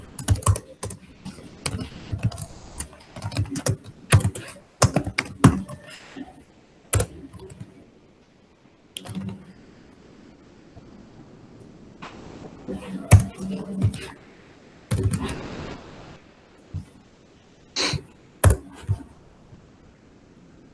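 Someone types a C++ program on a computer keyboard in bursts of clicking keystrokes with pauses in between. The taps are close and fairly loud, and a voice speaks at times over the typing.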